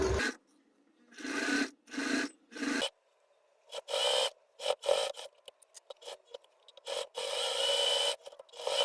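A domestic sewing machine stitches a doll garland in short, quiet bursts separated by pauses, with brief rasping and rubbing of fabric between runs and no voices.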